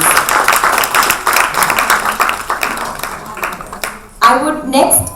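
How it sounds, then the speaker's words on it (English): A book launch audience breaks into dense, loud applause for about four seconds. A voice then speaks over the fading claps. "a huge round of applause, please."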